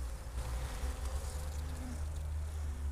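Honey bees buzz continuously around an open 18-frame long hive during an inspection, a dense low drone from many insects close by, steady and unbroken.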